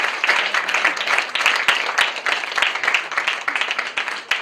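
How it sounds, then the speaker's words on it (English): A gathered audience at an international crowdfunding launch in Kenya claps continuously for an arriving guest, a dense, fairly steady patter of many hands at moderate loudness. "Let's clap for him until he gets here. Let's clap louder and louder and louder."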